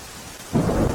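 Heavy monsoon rain over Gujarat breaks into a sudden loud rumble of thunder mid-way, a broad roaring wash following a brief quieter moment, with no voices.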